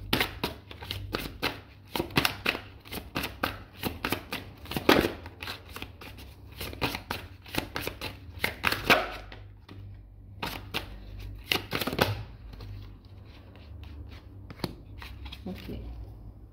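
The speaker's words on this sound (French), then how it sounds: "Je vais tirer 2 cartes." Tarot cards shuffled by hand before two are drawn: a string of quick, crisp riffling and slapping bursts over a low steady hum, fairly quiet and close, with no speech.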